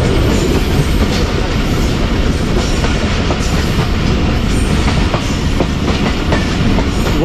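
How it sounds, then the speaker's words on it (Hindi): Ravi Express train with 60 coaches passing in Pakistan, a loud, steady rumble of rolling wagons with rhythmic clickety-clack from the wheels throughout, close by and without talk. "ये रावी एक्सप्रेस ही थी 60 डब्बों के साथ ZU20 के साथ"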